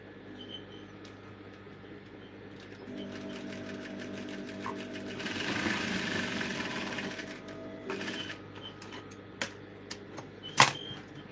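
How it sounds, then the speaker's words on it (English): A sewing machine stitches fabric with a steady, rapid mechanical whir and clicking that grows louder midway, then eases off, followed by a few sharp clicks and a knock near the end, close and with no talk. "Okay, this is your machine now, and I want to sew."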